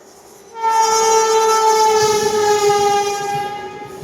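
A train horn sounds a long, steady, loud blast as a train approaches Kundag station in Purulia, with rail rumble underneath; no one speaks.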